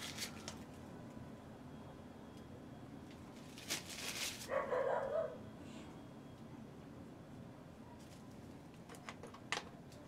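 A neighbor's dog barks a few times from another room midway, faint and distant over a steady low background hum.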